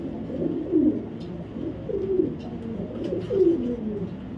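Light-coloured Kittel bloodline racer pigeons coo close by in three low, rolling phrases evenly spaced over a few seconds.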